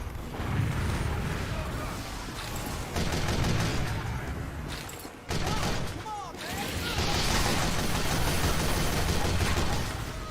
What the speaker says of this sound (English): I had to provide my own covering fire